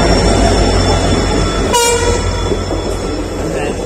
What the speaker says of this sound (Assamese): ইফালে ৰখি আছোঁ ট্ৰেইনখন অহালৈকে,